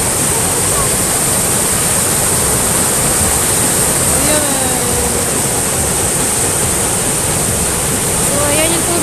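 A river in Cividale del Friuli rushes with a loud, unbroken roar that fills the whole stretch. A voice speaks briefly over it.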